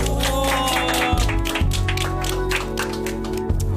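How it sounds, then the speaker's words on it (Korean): Scattered applause from a small group of people in a studio setting, light patters and taps running throughout beneath a steady background tone, with a few sharper claps standing out. "박수."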